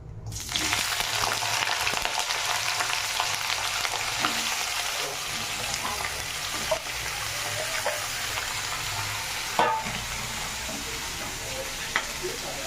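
Vegetables frying in hot oil tempered with nigella seeds and dried chilli make a steady, dense sizzle that runs the whole time, with a few sharp pops and crackles standing out, and no talking.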